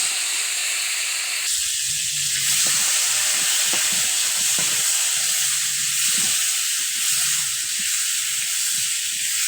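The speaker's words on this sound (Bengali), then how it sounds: "মাছটা ভেজে নিয়েছি, আলুটা একটু ভেজে নেব।" Fish and potatoes frying in hot oil, a steady loud sizzle and hiss that rises sharply after a quiet start and holds strong, with faint low clinks of stirring underneath.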